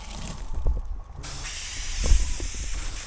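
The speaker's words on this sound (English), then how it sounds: "I'm waiting for the other one to land so I can spray these ones." A hissing aerosol spray can sprays insects, bursting out loudly, cutting off, then resuming in a second sustained spray, with a faint knock partway through.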